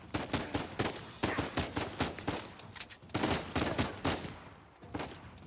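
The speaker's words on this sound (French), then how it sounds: "J'ai pas compris d'où venaient ces tirs là" Gunfire aimed at the player in the video game Uncharted 4: rapid bursts of shots in quick clusters, loud and close, separated by brief gaps, with no voices.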